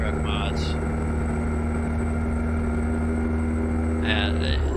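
Case Magnum 380 truck engine in American Truck Simulator, a steady low idling drone with a constant harmonic hum and brief hissy bursts near the start and end, heard alone.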